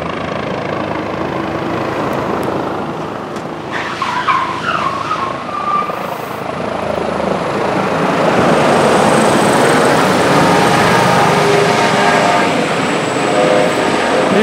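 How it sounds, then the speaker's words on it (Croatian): Airbus H-145 helicopter hovering and flying overhead during a police anti-terrorist tactical exercise, a loud sustained rotor roar that swells toward the end, with vehicle noise beneath. "Sve vreme podršku iz vazduha pruža helikopter Airbus H-145, osvetljavajući ciljano vozilo."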